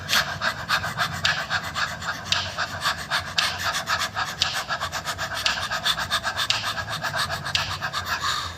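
Fast rhythmic breathing from the diaphragm as a singing warm-up exercise, each breath sharp and audible, repeating steadily and loudly up close without talking.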